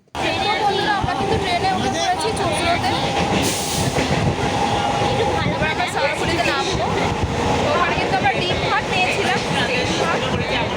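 A train roars loudly and continuously at a busy railway station, with rattling carriages and squealing metal over a crowd's murmur and nearby voices throughout.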